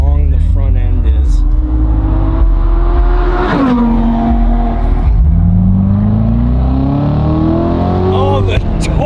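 A Corvette engine accelerates hard, a deep close-up rumble rising in pitch through several gear changes, with people talking over it.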